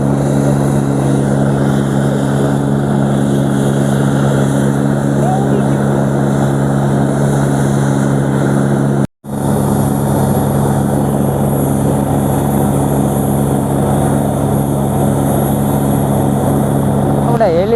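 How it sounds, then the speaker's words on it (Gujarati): A helicopter's rotor spins on the ground before takeoff, a loud, steady, close throbbing drone that runs throughout with one brief cut near the middle. "પાંખડાઈ ચાલુ કરી દીધેલ છે પણ ઉડાડતા નથી."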